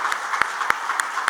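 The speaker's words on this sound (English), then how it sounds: "Big round of applause to you." Applause from an audience at an investment talk, with a steady wash of clapping and a few sharper, louder claps standing out at even intervals over a short span.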